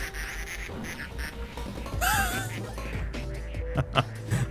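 Ducks quack in a video game, a burst of squawky calls near the middle over a steady game soundscape with busy effects and background music, moderately loud.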